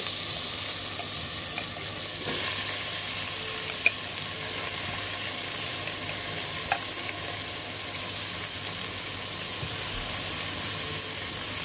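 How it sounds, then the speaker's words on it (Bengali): Malabar spinach and potato fry in a pan alongside half-fried loitta fish, a steady, fairly loud hiss of sizzling oil with a few faint clicks from stirring and no talk. "এখন আমরা পুঁই শাক এবং আলু দিয়ে দিব।"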